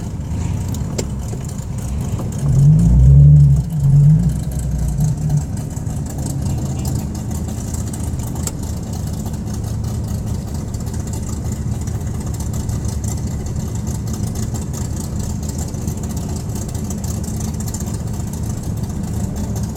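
A 2016 Nissan 370Z Nismo with a modified exhaust at an SCCA autocross event, idling with a steady, close low rumble and a short burst of blipped revs early on, no talk.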